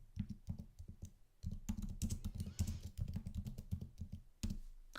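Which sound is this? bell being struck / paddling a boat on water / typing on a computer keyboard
typing on a computer keyboard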